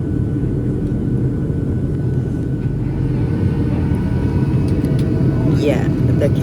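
Engines of a passenger airplane climbing after an aborted landing, a loud steady roar heard from inside the cabin throughout, with a voice speaking under it.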